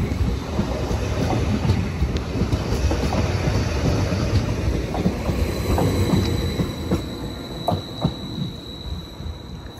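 Class 755 electric multiple unit 755338 arriving at Ipswich station, a loud, close rumble of wheels with clickety-clack joints and a faint high squeal as it rolls in, no voices.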